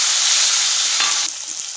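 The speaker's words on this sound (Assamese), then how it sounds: "আৰু বিলাহী 2টা মই কাটি লৈছিলোঁ তেলত দি দিছোঁ" Two chopped tomatoes hit hot oil in a pan and throw up a loud, dense hiss of frying close by, which drops suddenly to a softer sizzle partway through.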